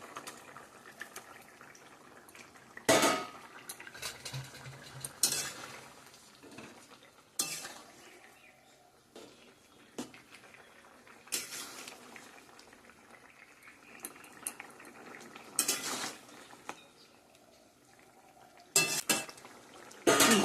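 Pieces of egg omelette added to a simmering pot of potato and pointed gourd curry and stirred, with intermittent metal spoon clinks and scrapes against the pot over a faint, quiet bubbling.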